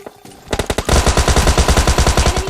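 Automatic gunfire in the mobile battle royale game PUBG Mobile Lite: a few single shots, then a loud, steady rapid-fire stream of evenly spaced, punchy rounds lasting about a second and a half, close and alone.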